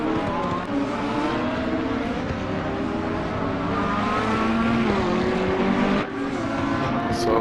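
Ferrari 488 race car in Assetto Corsa Competizione at the Nürburgring, its engine droning steadily and loud throughout with shifting harmonic pitch as it accelerates and lifts, a brief dip near the end, no speech.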